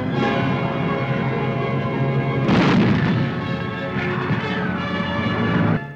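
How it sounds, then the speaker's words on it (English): Heavy naval gunfire from warships battling the Bismarck rolls as a dense, continuous thunder of booms, with one louder blast standing out midway. "silencing the Bismarck's guns to enable the cruiser Dorsetshire to close in and sink her with torpedoes"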